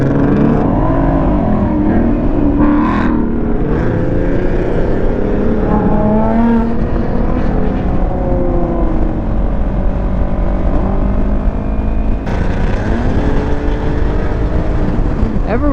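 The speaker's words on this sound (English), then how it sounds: "Everyone just wants to make as much noise as possible when they leave Cars and Coffee" Cars leaving a Cars and Coffee meet, engines revving hard and loud with rising and falling roars and passing vehicles layered continuously, a sharp burst of fresh acceleration near the end.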